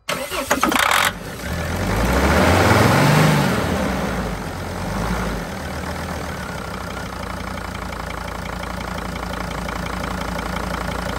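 A Mercedes Sprinter diesel engine, fed ether as starting fluid, cranks briefly, catches with a loud roar, then settles into a steady, somewhat knocking idle close by.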